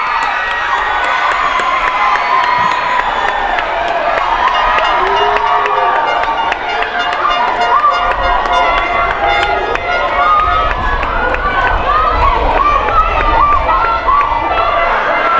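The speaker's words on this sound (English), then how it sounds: "And the crowd goes crazy." A crowd at a boys' under-16 football match roars and cheers loudly and continuously after the winning goal, with shouting, whistles and excited voices, and a commentator talking over it.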